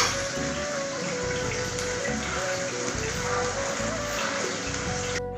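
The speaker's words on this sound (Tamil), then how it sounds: "இதுலேயே கொஞ்சம் நல்லா மிக்ஸி ஜாரில் தண்ணி கலந்து ஊற்றிக்கலாங்க." Water from a mixer jar poured into simmering cauliflower gravy, giving a steady splashing, bubbling hiss that ends with a short clatter.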